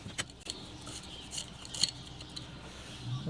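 A screwdriver works a screw out of a hydraulic motorcycle jack, making faint, close metallic scrapes and a few small clicks and taps over about three seconds, with no talking.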